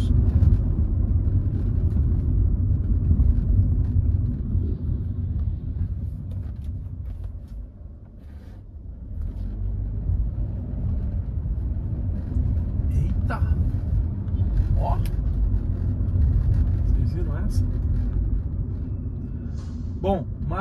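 Tire and road rumble inside a Hyundai HB20 1.6 automatic, a 2014/2015 World Cup edition, driving at night: a steady low droning roar, continuous and close, easing slightly midway.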